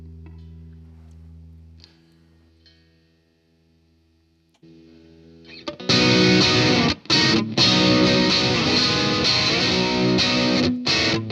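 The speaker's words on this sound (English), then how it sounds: "And can I get the money shot, please, with the distortion?" At a sound check, low hum and faint tones give way to a loud, sustained, heavily distorted electric tone that cuts out briefly twice before continuing, with no talk.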